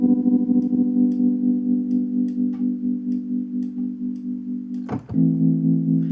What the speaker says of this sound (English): that's using the onboard reverb of that device